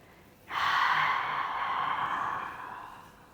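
A single long exhale through the mouth during a yoga breathing exercise: a soft, breathy rush that starts abruptly and fades slowly over about three seconds, close and alone.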